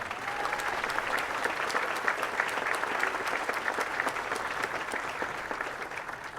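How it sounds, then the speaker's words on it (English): Audience applause for friends and family at a university presidential investiture ceremony, steady dense clapping from a large crowd, even and sustained throughout, heard at some distance. "Round of applause for them as well."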